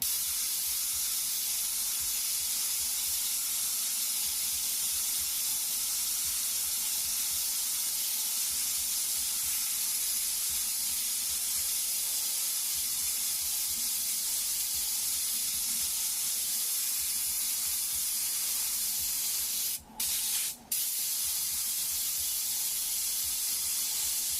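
An airbrush sprays paint in a steady, close hiss that runs almost without break, with a short pause near the end.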